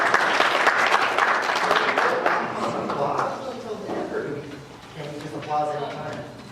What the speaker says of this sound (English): It's best to hold the applause.